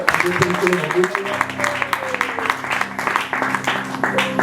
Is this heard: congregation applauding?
yes